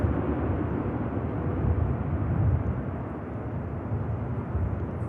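A landing airliner rolls out on runway 05 left at Manchester Airport, giving a broad, steady roar of engine and rushing air that swells slightly midway, then holds at a constant level with no voices.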